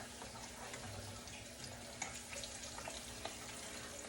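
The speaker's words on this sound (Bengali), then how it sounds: "বেগুন যেরকম ভাজি না ওরকম ডুবা তেলে একটু ভাজে নিতেছি" Sweet pumpkin pieces fry in deep oil in a home kitchen, giving a faint, steady sizzle with a few soft pops and crackles.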